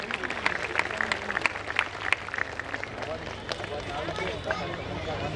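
An audience at a Sorath Public School event applauds an award-winning teacher, with steady, dense clapping throughout and a babble of voices underneath.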